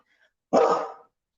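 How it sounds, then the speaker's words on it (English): A single sharp dog bark rings out close and loud in the quiet, lasting about half a second before silence returns. "they're just barking for no reason."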